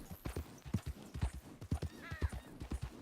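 Steady clip-clop of horse hooves in Red Dead Redemption 2, a quick even rhythm close by, with a brief faint whinny partway through.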